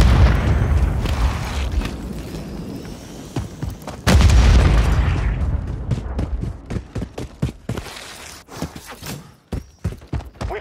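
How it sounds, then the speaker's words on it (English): A stun grenade detonates with a heavy boom in Call of Duty MWIII multiplayer, followed by a series of sharp pops and impacts in quick succession. "Grenade out!"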